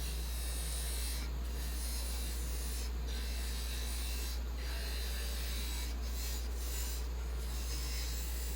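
A parting tool cuts a recess into spinning mimosa wood on a lathe, giving a steady close rasping scrape with several brief louder bursts of bite.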